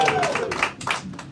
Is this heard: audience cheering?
yes